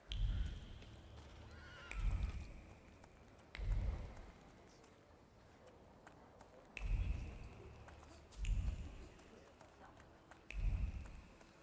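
A video-game horse whinnies several times at regular intervals, each neigh loud and close, over a faint rainy background hiss.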